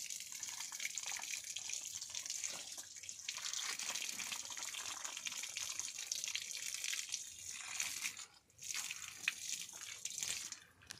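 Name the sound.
water flowing from pipe in banana plantation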